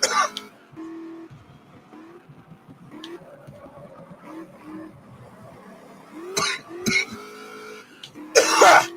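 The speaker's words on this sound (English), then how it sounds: "Coughing up a lung there." Several rough coughs and throat clearing over a quiet engine hum from the racing video game GT Legends, the loudest hacking burst near the end.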